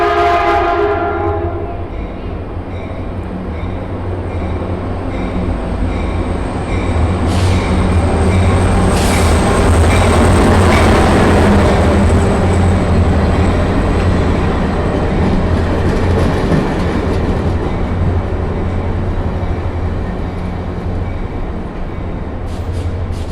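A Caltrain commuter train pulls into a station, its steady low rumble and rolling wheel noise swelling loudly over some twenty seconds, with brief high brake squeals and horn-like tones partway through.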